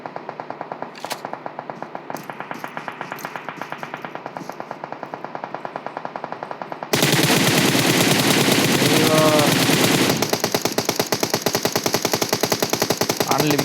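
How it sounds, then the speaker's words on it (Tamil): Rapid continuous M4 rifle fire in a video game, a steady rattling stream of shots that grows louder and denser halfway through, with faint voices underneath. "எந்த சைட்லேருந்து பார்த்தாலும் M4 வச்செல்லாம் அடிச்சுட்டே இருக்காங்க."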